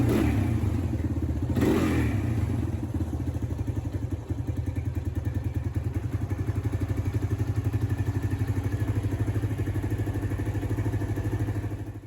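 A 1985-86 Suzuki Quad Sport 230 ATV engine runs steadily and close by with a fast, even putter throughout, one louder thump-like burst early on, and no voices.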